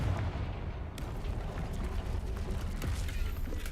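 A Confringo fire spell blast in Hogwarts Legacy, a video game: an abrupt explosive whoosh that settles into a low, continuous rumbling roar with scattered crackles and creaks, no voices heard.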